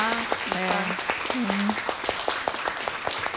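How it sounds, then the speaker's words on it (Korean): Audience applause at a book club event, scattered, close clapping running under and after brief talk from a voice. "그러시면 박수 한번 쳐볼까요?"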